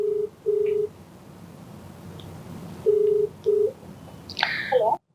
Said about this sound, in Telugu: సో నెంబర్ ఇచ్చారు, కాల్ చేసేస్తాను.